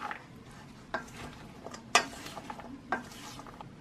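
A strawberry and mushroom salad with capers is tossed and mixed in a bowl, giving soft scraping with a few sharper clinks spaced about a second apart, close and fairly quiet with no talking.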